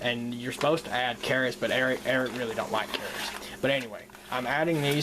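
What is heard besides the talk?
None of the usual background noises is heard.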